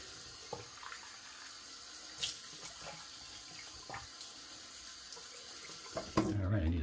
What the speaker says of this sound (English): let me splash on some cold water